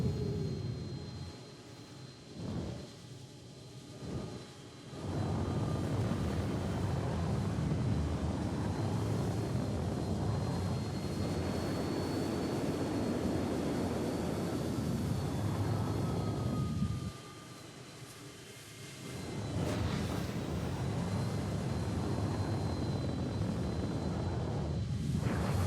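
A Mustang spacecraft flies through atmosphere in a video game. A steady roaring engine drone with a faint whine continues for most of the stretch, briefly cutting out twice before surging back up.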